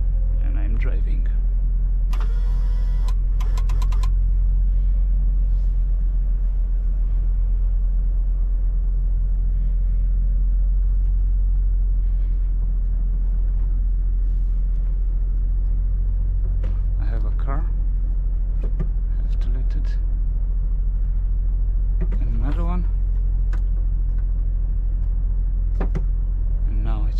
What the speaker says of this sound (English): And I'm driving.